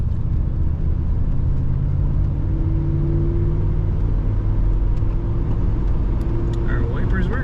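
A 1985 Buick LeSabre Limited Collectors Edition being driven, its engine humming low and steady as it accelerates, with road rumble throughout and brief faint clicks near the end.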